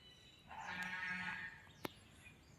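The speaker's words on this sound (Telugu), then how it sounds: "వెనకాల మేకలు గూడా ఉన్నట్టున్నాయి. అరుస్తున్నాయి." A goat bleats once, a drawn-out wavering cry from a short distance on a forestry nursery farm, followed by a brief sharp knock.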